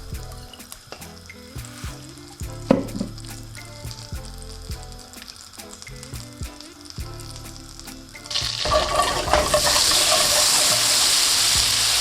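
Butter melts in a pan over medium heat with scattered clinks and handling noises, then breaks into a loud, steady, close sizzle during the last few seconds.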